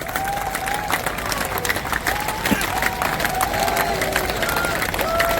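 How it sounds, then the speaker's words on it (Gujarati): A large crowd at a political rally claps hard and steadily, with shouts and raised voices mixed into the dense applause throughout. "જોરદાર બે હાથ ઊંચા રાખીને તાળીઓ પાડો."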